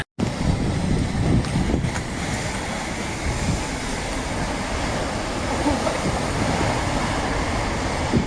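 Big storm waves crash on a coastline under a severe coastal weather warning, a continuous loud roar of surf mixed with heavy wind buffeting the microphone, steady throughout with no distinct individual breaks.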